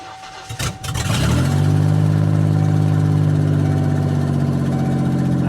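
A 1991 Mercury Cougar cranks briefly, catches and settles into a steady, loud idle heard up close.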